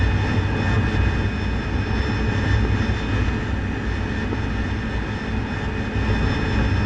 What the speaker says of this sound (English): just the helicopters are having a run in now